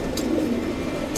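Pigeons coo softly and continuously at close range, a low throaty murmur filling the short moment with no talk over it.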